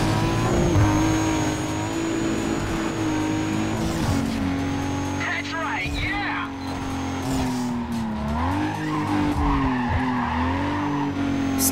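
Nissan Skyline R32 racing in Need for Speed: Carbon Redux, a loud revving engine with shifting pitch and tyre squeals from skidding through corners, while someone talks over it.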